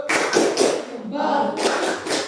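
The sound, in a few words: classroom applause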